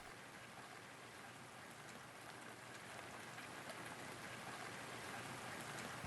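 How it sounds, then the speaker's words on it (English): Steady rushing wash of water from a waterfall inside a dark tunnel, a dense, even roar heard faintly and continuously with no voices. "It is the heavy sound of water."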